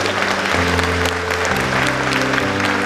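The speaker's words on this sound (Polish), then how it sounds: "Wielkie, wielkie brawo!" Sustained, dense audience applause after a musical Way of the Cross performance, steady and loud throughout with low sustained tones running beneath the clapping.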